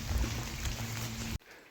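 Heavy rain pours steadily in Montredon, a dense continuous wash with a low hum underneath, then cuts off abruptly near the end, leaving quieter residual patter.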